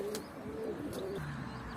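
Soft, low pigeon coos repeat over steady outdoor background noise, gentle and somewhat distant.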